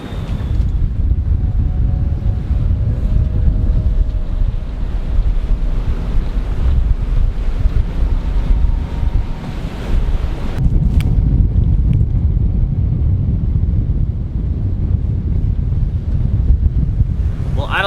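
Strong wind buffets the microphone aboard a sailboat at sea at night, with waves and water rushing past the hull in a loud, steady roar that continues without a break.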